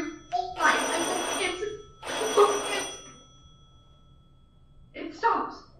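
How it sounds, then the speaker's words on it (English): A telephone bell rings in loud, long bursts with pauses between, set in an old radio drama, and someone speaks briefly near the end. "I'll let it go on ringing."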